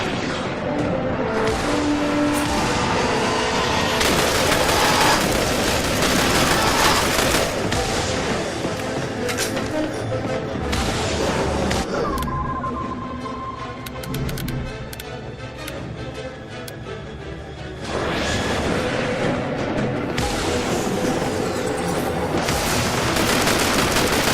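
Heavy sustained combat fire in The Bureau: XCOM Declassified on Xbox 360, loud overlapping gunshots and explosive bursts with a ticking mechanical layer, continuous throughout with a brief lull in the middle.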